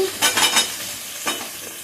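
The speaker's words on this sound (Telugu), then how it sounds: "పచ్చిమిరపకాయలను నూనెలో బాగా దోరగా వేయించుకోవాలి. సొరకాయ ముక్కలు వేసుకోవాలండి." Green chillies and bottle gourd pieces frying in hot oil, with a loud, close sizzle that swells in short bursts as the pieces are stirred.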